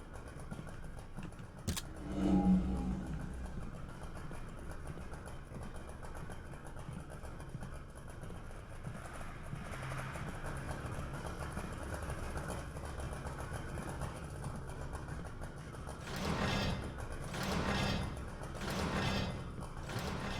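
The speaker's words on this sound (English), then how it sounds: "Oh, he's got a bloody chainsaw, he does." Chainsaw wielded by a boss enemy in the horror video game Deathbloom drones with a low, rough engine rumble, revving a few times toward the end, fairly quiet and steady throughout.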